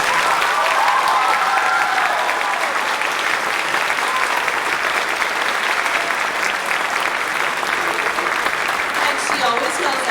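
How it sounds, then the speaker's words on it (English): Audience at a school spring concert applauds an accompanist, sustained crowded clapping for the full ten seconds, loud and even in a large hall, with faint voices mixed in. "Can we please give a round of applause for our amazing accompanist tonight, Miss Janet Rose."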